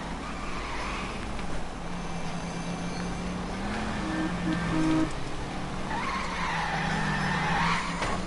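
A car skidding in the video game LA Noire, a long continuous tire squeal over a droning engine that swells and bends in pitch, loud and unbroken throughout.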